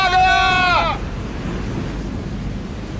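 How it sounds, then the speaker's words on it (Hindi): Strong sea waves in a storm give a steady, loud roaring wash with no break, after a short high bleating, sheep-like cry at the start. "समुद्री लहरें इतनी ऊपर उठकर हमारी तरफ आ रही हैं। लहरें बहुत तेज हैं।"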